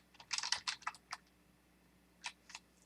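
Login credentials typed on a computer keyboard at a remote server login: a quick, fairly faint cluster of keystrokes followed by a pause and two more isolated key taps, with no talking.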